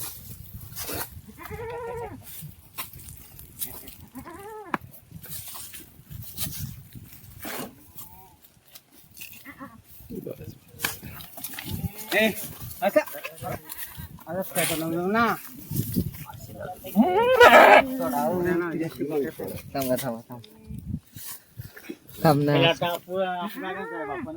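Kathiawadi goats bleating from a goat truck, several loud quavering calls scattered among the herd, some near and some farther off, with people talking over them throughout.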